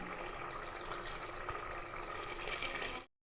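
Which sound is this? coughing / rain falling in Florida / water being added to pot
water being added to pot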